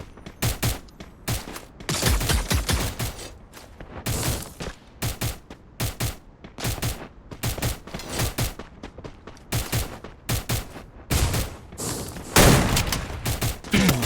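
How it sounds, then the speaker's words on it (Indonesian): Rapid bursts of gunfire from a battle royale video game played in a grand final tournament, dense overlapping volleys and single shots repeating steadily throughout, loud and close with booming impacts. "Seorang Evos saat ini memberikan tembakan tambahan yang berlangsung ke arah depan"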